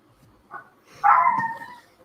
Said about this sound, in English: And then my dog's going to bark.